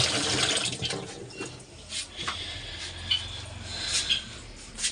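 A milk bowl left unwashed for two days is rinsed and scrubbed under running tap water in a kitchen sink, with steady splashing and gurgling, some clinks of the bowl and brief louder gushes.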